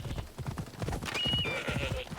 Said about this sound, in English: Riding the horse up to them.